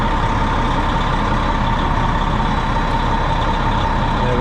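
A semi truck engine idles loud and close with a steady, unbroken diesel rumble while its air system builds pressure, a constant drone with no voices.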